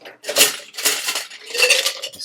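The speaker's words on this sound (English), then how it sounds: "Let's give it a bit of a stir." Ice is stirred in a wetted cocktail mixing glass, three quick bursts of clinking and rattling cubes against the glass, close and fairly loud, with no talk.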